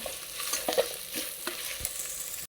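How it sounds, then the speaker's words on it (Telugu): Onions with ginger-garlic paste frying for veg biryani, a close, continuous sizzle with a few scraping stirs before the sound cuts off abruptly, with no talking. "చాలా సాఫ్ట్గా ఫ్రై అయిపోవాలండి ఉల్లిపాయలు."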